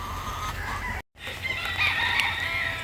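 Three-month-old chicks and chickens crowing and clucking nearby, with a brief gap of silence partway through and no talk.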